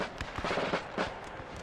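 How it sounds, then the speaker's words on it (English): Cannons fire in the Napoleon Total War III mod battle, from a slight incline. Several sharp, fairly faint booms come in quick irregular succession, some overlapping, against a low background rumble. "As you can see, I have my cannons firing."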